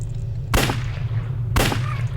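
Two loud gunshots about a second apart ring out over a steady low hum in a zombie shooter video game.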